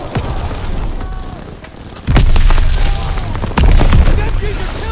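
Machine gun fire and booming blasts on a beach in Call of Duty WWII, loud and close with dense bursts and heavy impacts, as a voice shouts over the battle.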